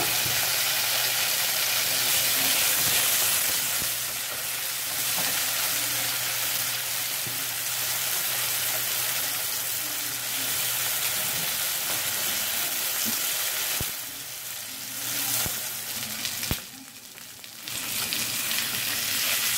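A thick côte de boeuf beef rib sizzles in hot oil in a pan, a loud, steady crackling hiss running throughout, with a couple of brief clinks near the end.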